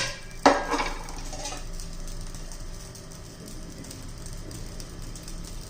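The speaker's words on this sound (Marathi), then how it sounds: "एक मोठा चमचा तेल घातलेलं आहे" A heating kadai on the stove takes a spoonful of oil, with one sharp metallic clank of the spoon against the pan, then quiet scraping and stirring over a faint, low sizzle.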